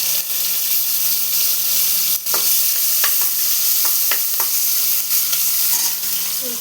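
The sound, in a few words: garlic and green chilies frying in oil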